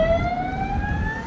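A police car siren wails steadily and loudly over low traffic rumble, its rising tone sustained without a break and with no talk.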